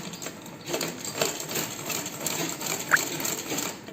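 Vintage Butterfly sewing machine stitching fabric, a fast continuous mechanical whirr and chatter with faint rhythmic ticking, close and steady over a few seconds, with no one talking.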